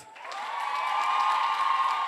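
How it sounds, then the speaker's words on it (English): Crowd at a dance performance event breaks into cheering, whoops and clapping that swell quickly and hold at a loud, sustained level with high voices carrying over the noise. "So a round of applause for us."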